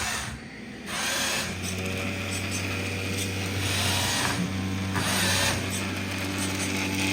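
A PM2.5 air purifier with UVC running, a steady mechanical hum and whir with a fan-like drone and occasional shifts in pitch, close and continuous with no talking.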